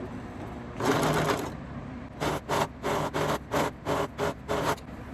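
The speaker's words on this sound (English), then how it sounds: "So we're just gonna serge really close to that edge." A serger stitches close along the edge of skirt fabric, starting with one longer run and then giving about eight short, evenly spaced bursts, each lasting a fraction of a second.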